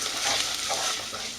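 Rice being stirred in a saucepan while cooking a chicken fricassee, a steady broadband sizzle and scraping that carries on continuously at moderate level with no speech.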